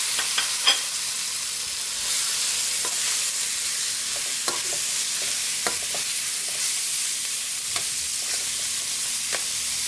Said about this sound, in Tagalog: Pwede na natin lagay yung ating pork.